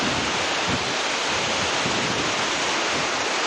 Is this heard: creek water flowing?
yes